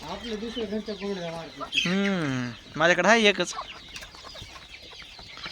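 A tall rooster, one of four-month-old multicolour and plain-coloured birds kept for sale, gives a few drawn-out clucking calls near the microphone, with someone speaking before and after the calls.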